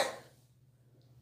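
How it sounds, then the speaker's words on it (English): A single short cough, fairly faint, fading quickly into a quiet low hum. "He's had a cough for a little while."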